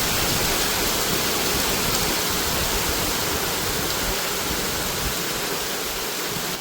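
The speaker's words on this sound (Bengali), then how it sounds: "আওয়াজটা শুনতে পাচ্ছ? কি জোরে জোরে বৃষ্টিটা জাস্ট হচ্ছে" Heavy rain pours steadily outside under a dark sky, a dense, even roar of falling water that stays loud and unbroken throughout, with no voices.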